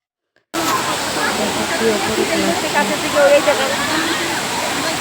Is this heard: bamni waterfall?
yes